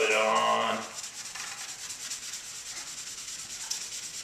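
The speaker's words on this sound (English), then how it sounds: "You rub it on, rub it on." A cloth rubs trim restorer onto the black unpainted plastic trim of a car mirror, giving steady soft rhythmic wiping strokes, close and fairly quiet, after a brief tonal noise at the start.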